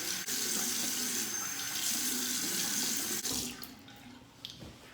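Hot water gushing from a bathroom tap into a sink to warm the face before shaving, a steady loud rush that stops abruptly after about three seconds, followed by faint drips and handling sounds.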